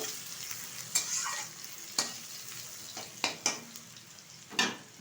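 Chopped onions fry lightly in a pan for an egg omelette curry, a soft steady sizzle broken by several sharp scrapes and clinks of a spatula against the pan.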